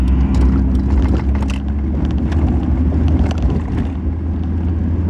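A manual five-speed car slows at about 20 mph as the driver downshifts into second with rev matching, the engine braking in a steady, loud drone close by with brief revs and no talk.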